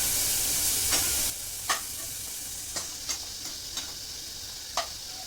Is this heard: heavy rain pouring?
no